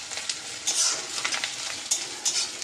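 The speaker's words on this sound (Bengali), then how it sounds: "দেখো বন্ধুরা এখানে মাংস রান্না হচ্ছে" Chicken cooking in a pan at a home birthday gathering, a close steady sizzle with bursts of stirring and utensil scrapes.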